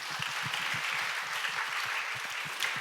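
An audience in a church youth service claps throughout, a moderately quiet, even patter of many hands that continues without a break.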